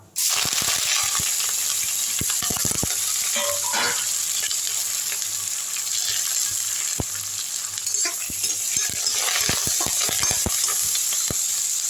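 Onions and curry leaves sizzle steadily in hot oil for sambar, with a continuous close frying hiss and occasional stirring clicks and scrapes, no voices.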